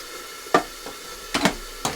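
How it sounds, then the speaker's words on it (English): A spoon stirs chicken chili taco soup with beans and water in an Instant Pot, giving a few soft scraping knocks against the pot in a quiet kitchen. "And then just give it a good stir."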